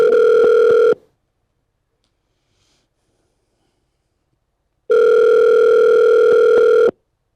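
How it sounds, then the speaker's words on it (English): A telephone line gives out its steady dial tone in two bursts: one short tone at the start, then a gap of silence, then a longer tone of about two seconds, clear and close with no talking. "let's call Wimp. Get Wimp back on the phone"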